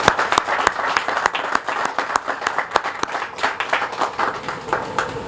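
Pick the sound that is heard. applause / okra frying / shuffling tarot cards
applause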